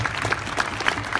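Audience applause following a film cast Q&A at a horror convention, a brief burst of scattered clapping from a room crowd, moderately loud with no voices over it.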